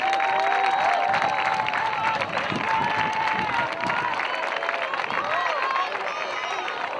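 A stadium crowd at a European ultimate frisbee open final applauds and cheers steadily for the whole stretch, a dense wash of clapping with a commentator's voice running over it.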